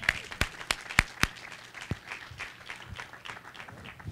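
Scattered clapping from a small audience at a university panel discussion, a few sharp claps standing out at first, then thinning into light, uneven applause.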